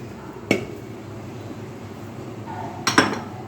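A spoon stirs mutton yakhni pulao in a metal pot, making two distinct clanks against the pot with a low background rustle between them.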